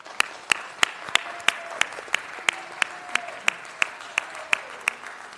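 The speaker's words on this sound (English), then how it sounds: "Let's give them a round of applause." Scattered, isolated hand claps ring out at a Los Angeles city council meeting honoring firefighters, engineers and captains of the fire department; a dozen or so sharp, separate claps in a roomy hall, with faint murmuring beneath.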